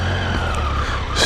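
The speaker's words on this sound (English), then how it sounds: "Little baby burnout. That'll dry the tire off good." A motorcycle tire spins in a short burnout, a loud steady engine drone that ends in a rising hiss of rubber squeal.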